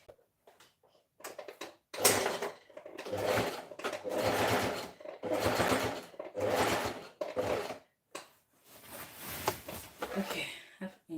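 A sewing machine runs in repeated short bursts, stitching fabric with a whirring, rhythmic chatter and brief pauses between runs, close and moderately loud.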